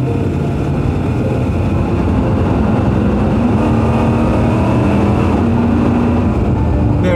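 Steady, loud engine drone from inside an Aston Martin Virage with an automatic gearbox as it drives, a smooth continuous hum with a low rumble that holds even throughout.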